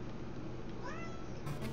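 A cat meows once in short rising-falling calls over a steady background of game music and noise, fairly faint and mid-distance, with no talking.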